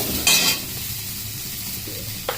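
Green chilies frying in hot oil with black cumin seeds: a close, steady sizzle with a loud burst of spattering near the start and a few sharp stirring clicks.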